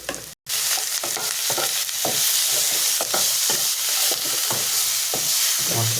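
Spices for an onion omelette curry, with cumin and a little sugar, sizzle steadily in a hot pan, loud and close, with repeated stirring scrapes through the frying hiss and a brief gap near the start.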